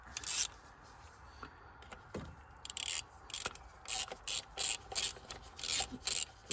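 A spark plug is threaded in by hand on a 2001 Toyota Yaris R-sport VVTi, faint rhythmic metallic scraping and rubbing in short repeated bursts, close but quiet.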